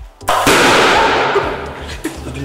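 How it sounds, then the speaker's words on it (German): An explosion demonstration at a hazardous substances conference goes off with a sharp, loud bang, then a roaring rush that fades over two seconds, with faint voices around it. "Explosionsdemonstration."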